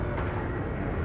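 Gate opening in the spaceship game EVE Online: a dense, rumbling whoosh of broadband noise, steady and fairly loud across its short length, with no talking.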